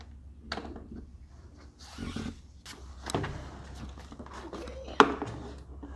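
Plastic door panel clips are pried out of the door of a 2000-2011 extended cab Ford Ranger, giving several faint, scattered clicks and scrapes with one sharper pop near the end, set against a quiet background without speech.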